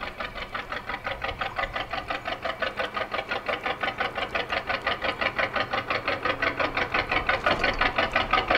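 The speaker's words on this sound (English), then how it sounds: "I'm going to let this lovely boat come on past." A canal boat's engine chugs past close by with a steady, rhythmic thump that slowly grows louder as the boat nears. It is heard alone, with no talk over it.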